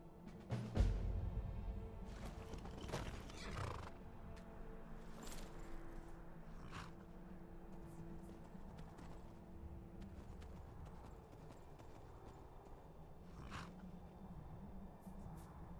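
Hooves clip-clop steadily from a dwarven horse in the video game Skyrim, with game ambience behind them and no clear neigh.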